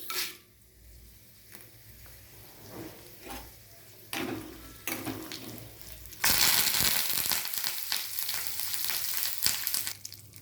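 Small tempering spices crackle and sputter in hot oil, starting with scattered pops, then bursting into a loud, continuous sizzle close up.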